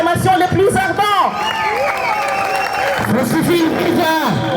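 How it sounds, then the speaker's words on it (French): Union training session attendees cheer and shout acclamations, loud crowd voices rising and falling in chant-like waves with some clapping and babble underneath. "Donc c'est sous vos acclamations les plus ardentes"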